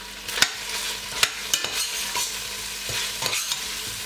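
Onions fry in oil in a large sufuria pot: a loud, close sizzle punctuated by sharp scraping knocks of a spoon against the pot, with stirring every second or so.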